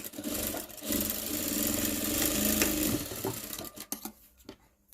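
A sewing machine stitches a women's blouse in a tailoring class, running in a steady mechanical whir for about three seconds before stopping into a few faint clicks and near silence.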